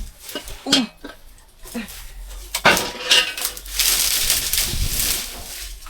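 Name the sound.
large cooking pot being handled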